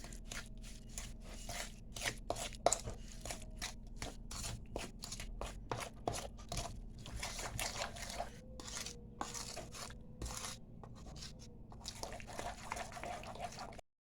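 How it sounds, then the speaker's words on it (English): Sugar stirred into cushaw squash pie filling in a bowl makes a steady, quiet run of wet scraping and squelching strokes, close and continuous throughout. "We're going to go ahead and mix this in."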